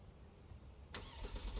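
A 2022 Kia Stinger GT starts by remote start, a sudden broadband burst of the engine catching after low quiet rumble, then settling into a steady idle close by.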